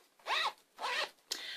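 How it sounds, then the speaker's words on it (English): A small zipper on a wallet is pulled open in three close, rasping strokes. The first two are smooth drags separated by short pauses, and the last starts with a sharp click. "there's a little zipper here"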